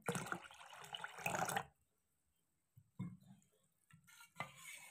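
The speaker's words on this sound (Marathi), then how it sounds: "आपण थोडंसं पाणी ओतून घेणार आहे." Cold water is poured into thick jowar-flour ambil, giving a short splashing pour and stirring clatter, then a pause and a few softer bursts.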